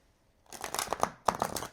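Tarot cards from a new Sea In Moonlight Tarot deck by Vermilion being shuffled close up, a quick riffling flutter in two bursts with a short pause between, no talking.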